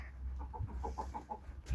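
A hen clucks in a quick series of soft, evenly spaced notes, fairly close, over faint background noise.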